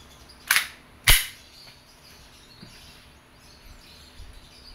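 Two sharp, loud pops from a WE airsoft Glock 34 Gen 4 gas pistol fired into a chronograph, about half a second apart, followed by faint room noise.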